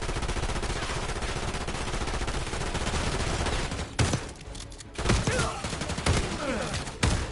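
Dense, continuous automatic gunfire in a Black Ops 6 campaign firefight, loud and close, with a brief lull around the middle before bursts of shots resume.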